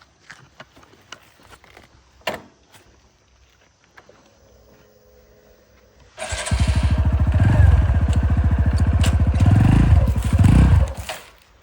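After some quiet clicks and fiddling, a motorcycle engine fires up loudly and runs with a rapid, throbbing putter for several seconds before easing off.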